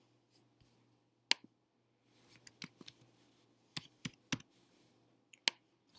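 Sparse, irregular keystrokes tap out a password on a computer keyboard while logging in, quiet clicks coming in small clusters separated by pauses, close by in an otherwise still room.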